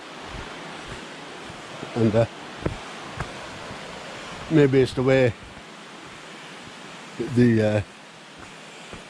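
Small miniature waterfalls on a crags walk give a constant broad rushing wash of water, moderately loud, with someone talking intermittently over it.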